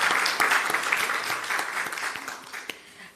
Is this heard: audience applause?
yes